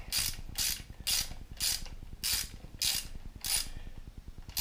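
A ratchet clicks rapidly and steadily in close, repeated strokes with short sharp bursts between them while snugging the oil drain bolts on a 2011 Yamaha XT 250 motorcycle.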